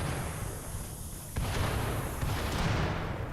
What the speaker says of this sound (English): the stored fuel blew up